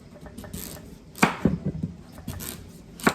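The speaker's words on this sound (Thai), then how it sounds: "ก่อนอื่นก็ขอหั่นฟักทองก่อนนะคะ" A knife chops through pumpkin on a board, several uneven thuds and cuts spaced over a few seconds, close by and without talk.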